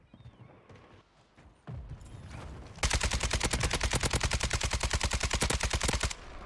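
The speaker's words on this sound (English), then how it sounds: "this AK is actually kind of just shredding" AK-47 assault rifle firing in Black Ops 6 on Rebirth Island, a long sustained burst of loud, rapid, evenly spaced shots that follows quieter game sounds and shuffling.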